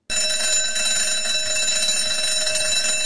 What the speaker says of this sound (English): When the fire alarm rings, he quickly puts on this uniform.